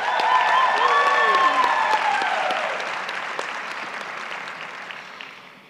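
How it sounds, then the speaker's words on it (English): Loud audience applause at an African health conference, sustained and dense from the start, then gradually tapering off over several seconds. "so please give applause to Cynthia."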